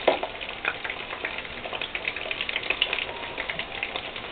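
Gyoza fry in a hot pan, making a steady, dense crackle of popping and sizzling oil. The sound is close and fairly loud throughout, with no voices.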